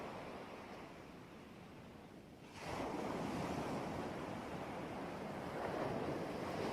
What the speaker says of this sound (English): Gaze out at the ocean.